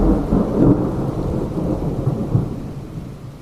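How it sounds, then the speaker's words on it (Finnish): A loud, deep rumble of thunder rolls through a thunderstorm, heavy and sustained with rain hissing beneath it, fading slightly toward the end. "Ja sitten kuuluu kova jyrinä."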